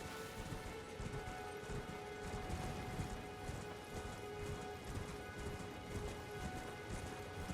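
Horse hooves clip-clop steadily at a quick gait in Elden Ring, a continuous rhythmic patter mixed into dense game ambience and music rather than standing alone.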